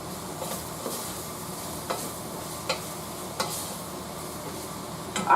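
Onions and green peppers sizzle steadily in a shrimp gumbo pot, with a spoon scraping and stirring now and then. A louder clatter comes at the very end.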